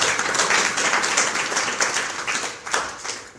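A satsang audience claps together in a dense burst of applause that swells and then tapers off over a few seconds.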